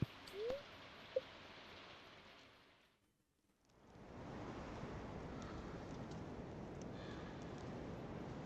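Steady rain falling in the Stardew Valley farming game, a soft continuous hiss that cuts out briefly into near silence and then resumes at even strength, with a couple of faint game chimes early on.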